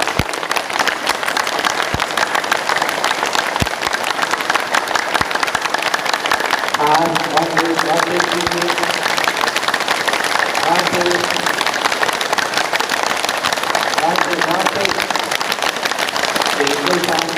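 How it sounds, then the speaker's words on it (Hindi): A yoga class clapping hands fast and hard together, a dense continuous roar of applause-like claps from a group, loud throughout, with voices briefly rising over it. "100 टाइम्स क्लैपिंग, सभी उंगली एक साथ हो और तेज से हो।"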